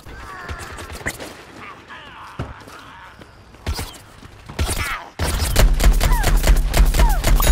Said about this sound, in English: using the rocket jump and then firing the ZPG at the height of your jump